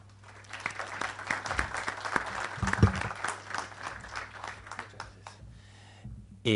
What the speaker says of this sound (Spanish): los invito a despedir a Marco Antonio con un fuerte aplauso